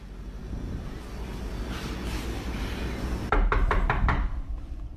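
Rapid knocking on a door at night, a quick run of about five sharp raps arriving suddenly after a stretch of quiet room hiss and low rumble.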